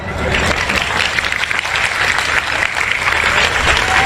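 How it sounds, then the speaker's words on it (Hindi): Sustained applause from a large audience, dense and steady throughout, with faint crowd murmur underneath. "आप ताली बजाते हो"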